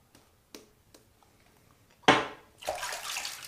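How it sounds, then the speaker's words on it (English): Water runs from a tap as hands are rinsed during a wet shave with tallow shaving soap: a few faint clicks, then a sudden loud gush and a steady close rushing stream. "Rinse my hands so the razor doesn't slip again."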